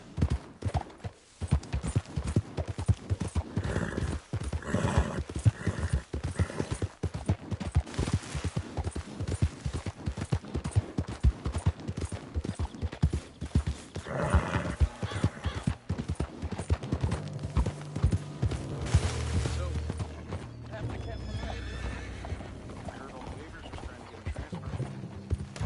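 A horse gallops in Red Dead Redemption 2, with rapid, loud hoofbeats pounding steadily and slowing toward the end while a voice urges it on.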